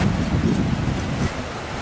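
Morning sea along the Malecón Grau seafront in Chimbote, Ancash, on a cold day: a broad, steady wash of surf and wind noise, with no distinct breaking waves.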